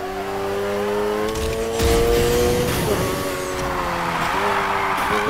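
A car drifts through a corner in the video game Need for Speed Heat, its engine droning steadily as a long tire squeal and skid rises up and holds for several seconds, with no talking over it.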